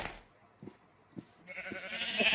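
Sheep in Minecraft version 1.8.8 give a few short, soft bleats spaced about half a second apart, followed by a louder burst of rustling noise.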